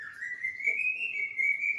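A cucak ijo songbird kept at home sings one long, clear sustained whistle that rises gently and wavers, close and bright against a quiet background.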